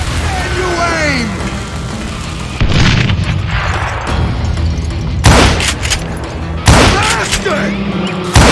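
Gunfire in the Western shooter Call of Juarez Gunslinger, with loud booming shots at irregular intervals over a busy game soundscape of music and effects, and a voice speaking between the blasts.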